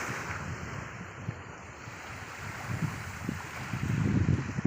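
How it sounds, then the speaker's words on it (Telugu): Sea waves wash onto a beach in a soft, rushing roar that swells louder toward the end, with wind buffeting the microphone. "చూడండి సముద్రం"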